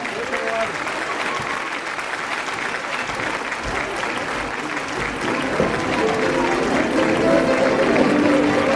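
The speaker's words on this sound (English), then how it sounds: "Applause everyone." Dense, sustained applause from the audience at a community association's annual gathering honoring sponsors and dignitaries, a loud continuous wash of clapping mixed with crowd murmur and voices that swells slightly toward the end.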